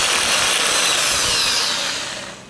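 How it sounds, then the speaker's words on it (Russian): An electric drill whines loudly up close while boring into a K-126 carburettor part from a GAZ-66 truck, a continuous high grinding buzz that winds down near the end with no talking. "Дрель так хорошо центруется."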